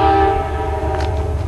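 Train at Rochester train station, a steady horn-like tonal drone with layered harmonics over a low rumble, loud and sustained throughout the short stretch.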